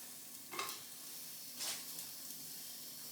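Bacon and sausage fry in a dry pan with no oil, giving a soft, steady sizzle with two brief louder hisses, faint and fairly close.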